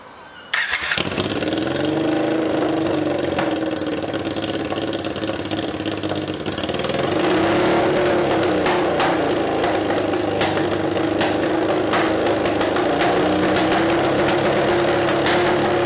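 Scrambler motorcycle engine started up, catching after a brief crank and settling into a loud, close, steady idle with slight surges, its exhaust rumbling continuously with no talking.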